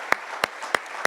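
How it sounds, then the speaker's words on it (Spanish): Four sharp hand claps, evenly spaced about a third of a second apart and fairly close, ring out during a Spanish-language church worship service, offered as applause for Christ. "Dale un fuerte aplauso a Cristo"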